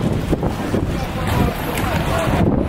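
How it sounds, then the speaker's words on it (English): Gusty wind blowing on a London street, a steady broadband rush with microphone buffeting throughout, heard close and loud with no speech over it. "That wind, child."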